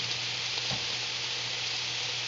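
Pork chops fry in a pan with a little water and no added oil, giving a loud, steady, close hiss and sizzle with a soft bump partway through.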